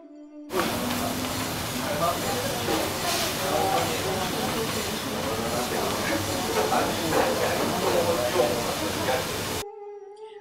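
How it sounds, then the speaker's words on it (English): Teppanyaki being cooked on a grill right in front of diners at a restaurant in Tokyo, Japan: a steady, close sizzle and hiss of food on the hot plate, with faint clatter and background chatter throughout. "This time it was teppanyaki, where they cooked everything on the grill in front of us."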